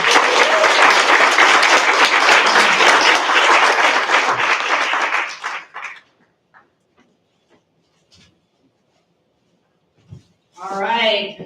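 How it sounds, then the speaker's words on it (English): Audience applause fills a startup pitch night, a dense, loud burst of clapping lasting several seconds before fading into near silence, with a few faint sounds and a brief voice at the end. "everybody give round of applause"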